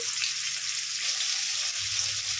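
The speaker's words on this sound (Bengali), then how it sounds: "এবার আমি তেলে করলাগুলো দিয়ে দিচ্ছি" Sliced bitter gourd sizzling in hot mustard oil in a pan, a steady dense hiss of frying that stays close and even throughout with no voices.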